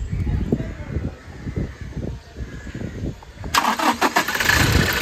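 A 2016 Toyota Innova Crysta 2.4V, a used car, cranks and catches near the end, its engine starting loudly after a stretch of close talking and handling noise.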